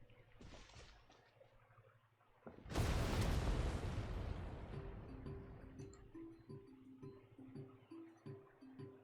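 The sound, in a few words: explosion at the stadium in a video game (Genshin Impact, Natlan)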